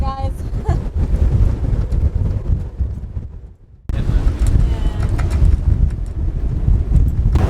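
Strong gusting wind buffets a sailboat at anchor during a windstorm, a loud continuous roar of wind noise against the microphone, dipping briefly before surging back.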